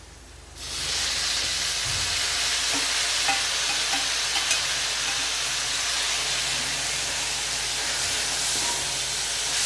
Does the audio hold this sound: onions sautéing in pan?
yes